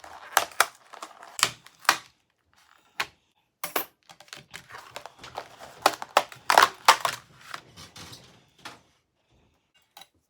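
Metal cutting dies punching card shapes through a die-cutting machine: a series of sharp, close crunching clicks and cranks in uneven bursts, fairly quiet, with no talking.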